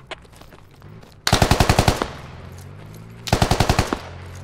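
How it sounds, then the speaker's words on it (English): Two close, loud bursts of rapid automatic AK rifle fire in the video game Squad, each about eight shots in quick rhythm, separated by a pause of low background rumble. "Yeah, that's an AK."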